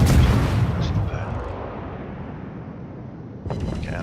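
Naval guns on a Shiratsuyu destroyer in World of Warships boom loudly at the start, then a rumbling tail fades out before another burst of firing near the end.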